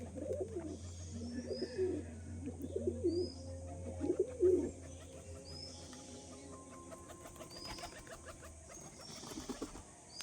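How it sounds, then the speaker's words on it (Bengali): Pigeons released from a cage coo in low, repeated throaty calls close by, with faint rustling and light background noise between the coos. "এই যে পায়রাগুলো বন্ধুরা বাইরে আসছে"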